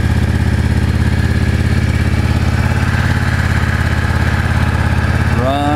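A Yamaha XVS650 motorcycle engine runs with the choke on, a loud, steady, close throbbing idle that continues unbroken, with no talking.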